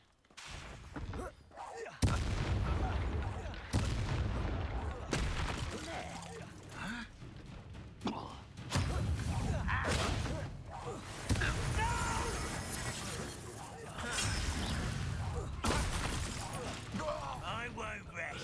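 Spell-casting combat effects from the Hogwarts Legacy video game, with repeated loud blasts, whooshes and impacts in quick succession over a continuous game soundscape, with voices shouting incantations in between.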